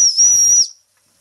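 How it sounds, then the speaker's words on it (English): A German Doll 365 toy steam engine running on live steam gives one short, shrill, steady whistle blast with hissing steam. It lasts about half a second and then cuts off into silence. "Whistle works."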